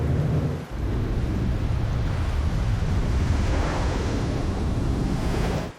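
Wind roars across the open sea over a continuous low rush of breaking waves and steepening swell, loud and unbroken throughout, with heavy buffeting on the microphone.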